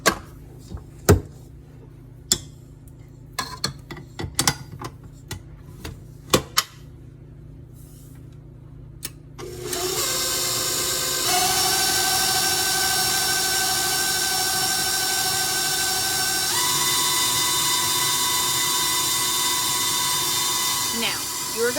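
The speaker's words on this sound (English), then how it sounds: "it's really easy with a dough hook. So I'm just mixing it up pretty good. And we're gonna go put this on the mixing stand" A stand mixer starts up after scattered clinks and knocks and then runs steadily at fairly high speed with a whining motor hum, its dough hook kneading bread dough for Dutch oven bread, close and continuous.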